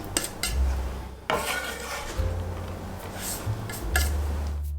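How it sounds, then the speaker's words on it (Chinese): Knife cutting soaked, rehydrated wood ear mushrooms on a board, a few close, hard chops separated by soft scraping and rubbing, steady and fairly loud with no talk. "接着再切一些提前泡发的木耳"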